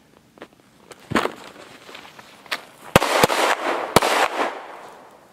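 Sharp gunshots from a Glock pistol during winter concealed-carry practice, several sudden cracks at uneven intervals, with rustling of clothing and movement between them.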